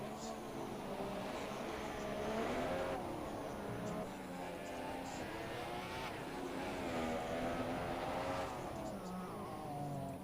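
A Formula 1 car in a Russia round, thrashed around to build tyre heat, its engine revving up and down in repeated rising whines over steady broadcast-style noise, with commentators talking over it.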